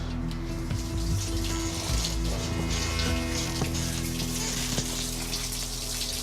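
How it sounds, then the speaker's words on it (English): Water from a burst pipe splashes and runs under a house beneath the bathroom, a steady wash of water that continues throughout with a few irregular spatters and no talk. "there's a busted water pipe and you hear the water hitting underneath the house in the bathroom"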